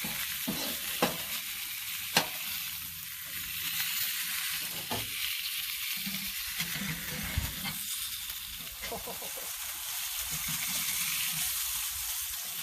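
Green chile cheeseburger patties hiss on a hot griddle in a continuous, fairly quiet sizzle, with a few sharp spatula clicks and scrapes as they are shifted aside.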